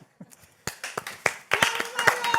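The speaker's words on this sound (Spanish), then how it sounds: "Vio cómo le aplaudieron ahí." An audience applauds during an electoral talk program, a brief crackle of claps that swells into dense clapping after a couple of seconds, heard beneath someone speaking.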